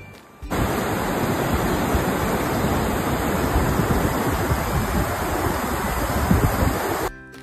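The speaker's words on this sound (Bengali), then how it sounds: "ঝর্ণার জলের শব্দটা আমাকে বরাবর এত টানে, এত সুন্দর সুরেলা একটা আওয়াজ" Water from a waterfall at Naxalkhola in North Bengal rushes in a dense, steady roar that starts abruptly and holds evenly for several seconds before cutting off.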